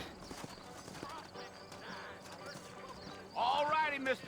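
Horse hoofbeats clip-clop in a Red Dead Redemption video game scene, a rhythmic trot under in-game talk, followed by a loud, close whinny near the end.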